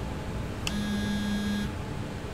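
A phone rings in a pocket in the video game SOMA: a single electronic buzzing tone lasting about a second, starting with a short click, over a steady low ambient hum.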